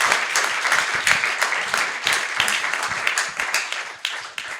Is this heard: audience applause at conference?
yes